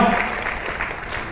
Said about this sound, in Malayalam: ഒരു കൈയടിക്കാൻ തോന്നുന്നില്ലേ?